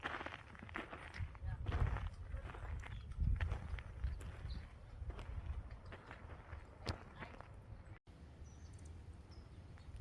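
Hooves clop unevenly as horses walk past at a moderate distance on a hiking trail at Los Peñasquitos, San Diego, with scattered knocks and outdoor background noise.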